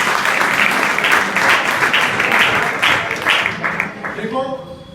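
Students applauding at the close of a school session, a dense burst of many hands clapping loudly for several seconds before thinning out as a voice begins to speak.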